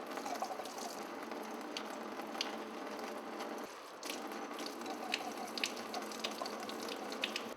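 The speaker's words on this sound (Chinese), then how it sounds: "再用清水冲洗干净。" Steady tap water runs and splashes inside a laboratory graduated cylinder during rinsing, a continuous close hiss with faint clinks of glass throughout.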